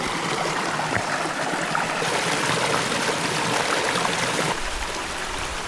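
Mountain stream in the Adirondacks rushing steadily over rocks while water is collected, a continuous close, loud flow with a brief deeper gurgle near the end.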